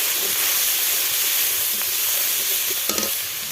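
Masala spice paste fries loudly in a pan after a splash of water, giving a dense, continuous hissing sizzle up close with a few faint clinks near the end and no speech.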